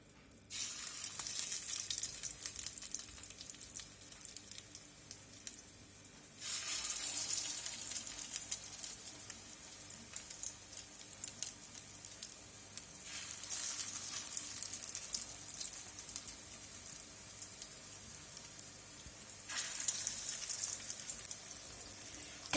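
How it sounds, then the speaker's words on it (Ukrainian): Fish cutlets fry in hot oil in a pan, a soft, steady sizzle with brighter bursts of crackle every few seconds as pieces are added or shifted, fairly quiet and free of talk. "В розігріту сковороду ми налили олії і викладаємо наші котлети."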